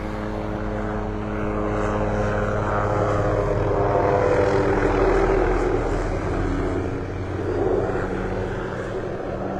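A mosquito-spraying helicopter's droning engine and rotor hum passes overhead at Delnor-Wiggins beach, North Naples, Florida, swelling and fading slightly, steady and fairly distant throughout.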